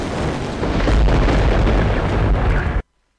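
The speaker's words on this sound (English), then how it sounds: "We will just try and fire off a depth charge" A depth charge detonates in the naval warfare game Victory At Sea as a loud, sustained boom that rumbles for nearly three seconds and then cuts off abruptly into silence.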